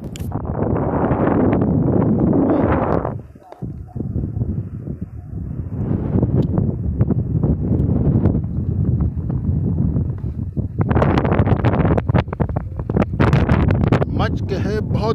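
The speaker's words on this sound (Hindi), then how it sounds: "हवा बहुत ज़्यादा तेज़ है।" Strong wind gusting across the microphone outdoors, a loud steady roar that drops briefly and returns, with people talking over it.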